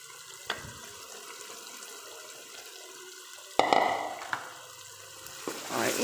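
Eggplant sizzles and is stirred in a hot pan with spices, a low steady frying hiss with a few sharp spoon scrapes and clatters, louder bursts of sizzling later on.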